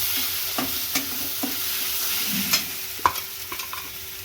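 Masala paste and onion sautéing for misal in a pan, with a steady close sizzle broken by several sharp clinks and scrapes of stirring, and no talking.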